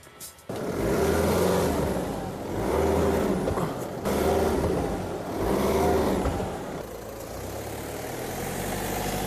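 A car stuck in the mud at a fishing spot, its engine revving in long repeated surges over a steady idle while it is pushed out; loud and close, no talk.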